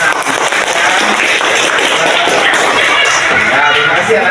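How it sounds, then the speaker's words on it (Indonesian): Children in a classroom applaud together, a steady dense patter of hand claps holding fairly loud and even throughout, with voices mixed in. "Ya, tepuk tangan."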